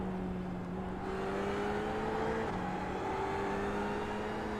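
A race car engine accelerates steadily in the iRacing sim at Barcelona, a loud continuous drone with the pitch climbing, dropping at a gear change around midway, then rising again, with no talk over it.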